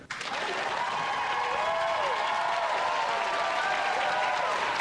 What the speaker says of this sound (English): clap if you think number one is healthier